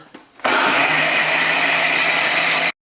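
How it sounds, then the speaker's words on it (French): A kitchen blender whirs loudly and steadily for just over two seconds, mixing a watermelon drink with almond powder, then cuts off abruptly; a faint rumble precedes it and no talk is heard. "Et on repart pour un tour de mixeur."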